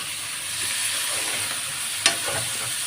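Onions, green chilies, curry leaves and a little coriander fry in a pan, a steady close sizzle with one sharp utensil knock near the end.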